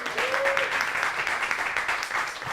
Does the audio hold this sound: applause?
yes